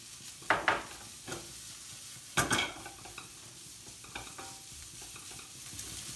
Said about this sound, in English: we add the bacon, so it's gonna roast together